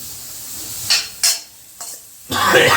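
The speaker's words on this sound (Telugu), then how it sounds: "ఉల్లిగడ్డ బాగా వేపుకోవాలండి, బ్రౌన్ కలర్ వచ్చేదాకా అలా ఫ్రై చేసుకోవాలండి" Onions sizzle in a hot pan with a few sharp bursts of stirring or tossing, then a loud steady frying hiss near the end.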